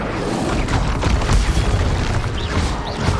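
The Incendio fire spell in Hogwarts Legacy bursts out as a dense, roaring whoosh of flame with crackling booms, loud and continuous throughout.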